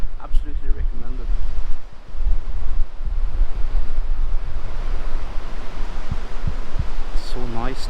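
Ocean waves wash onto a beach in Thailand in a constant loud roar with heavy wind buffeting, and brief bits of voice at the start and end.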